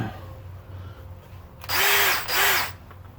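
Power drill running at high speed during a 1970 Pontiac LeMans/GTO fuel line installation, two loud whirring bursts close by after quiet shop hum, the motor briefly dipping between them.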